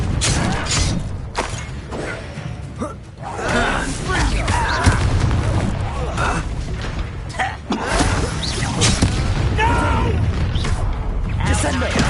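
Confringo blasting-curse explosions in Hogwarts Legacy, with booming thuds, crashes and crackling impacts amid a dense spell-combat mix, loud and close, with voices shouting spells during the fight.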